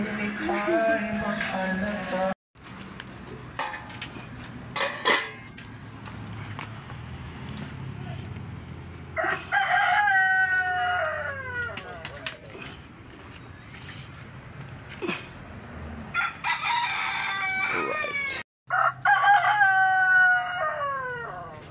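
A native red rooster crows several times, loud and close, the calls rising and falling, while people talk over and between them.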